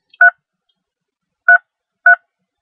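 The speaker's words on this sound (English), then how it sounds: "Please type in the 3-digit number of the conference room you would like to join." Three telephone keypad DTMF tones dialing a three-digit conference room number, each a short clean beep, the first followed by a long gap and the last two closer together, alone against silence.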